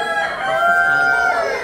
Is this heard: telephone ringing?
no